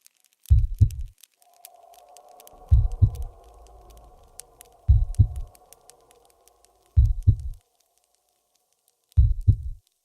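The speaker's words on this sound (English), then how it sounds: "With every heartbeat." Slow, deep heartbeat thuds in the horror game Trauma, five paired lub-dub beats evenly spaced over a soft lingering hum, close and isolated with no voices.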